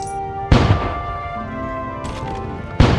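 Heavy booming blasts of ship cannons firing in a space video game, three loud reports in quick succession over a tonal musical background.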